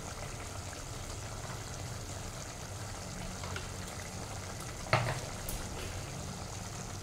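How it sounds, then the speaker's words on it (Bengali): Turmeric, coriander, cumin and Kashmiri red chilli powder cook down with onion paste for chana paneer masala, giving a faint, even, steady sizzle throughout with one brief clink of a utensil midway. "এবার এই মশলাটা একটু বেশিক্ষণ কষাতে হবে"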